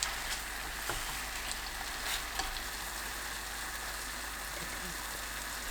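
Soft, steady sizzling and crackling of king oyster mushrooms frying in a pan with bubbling gochujang sauce, faint and continuous with small pops.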